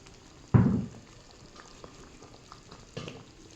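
Paruppu urundai kuzhambu, a lentil-ball gravy, simmers quietly in a pot with soft bubbling. Two louder bubbling bursts stand out, the first stronger than the second.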